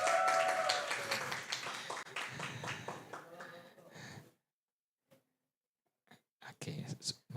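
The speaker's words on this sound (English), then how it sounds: "Give applause for group 6." Applause from an audience at a university summer course closing day, given for a student group: a dense wash of clapping for about four seconds with voices mixed in, then near silence and a few scattered claps and voices.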